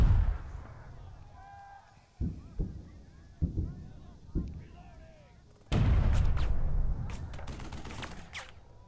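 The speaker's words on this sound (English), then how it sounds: "Hear artillery cracking off." Artillery fire in the war game Burden of Command: a series of separate booming cracks, then a heavier sustained burst of rolling fire, with a voice speaking between the shots.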